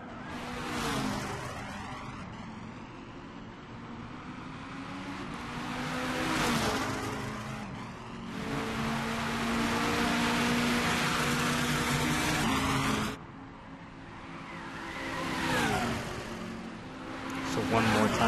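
Red Corvette race car engines on track in Gran Turismo 6 during a GT series race at Spa, loud engine drones rising and falling with gear shifts and passes, with a commentator's voice over them.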